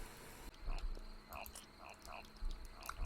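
Frogs croaking in a horror video game, a series of short, bright croaks and chirps repeating every half second or so over a faint insect-like buzz, fairly quiet and alone.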